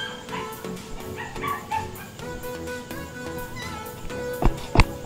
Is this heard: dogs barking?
yes